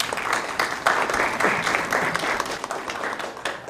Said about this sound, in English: let's welcome him with an applause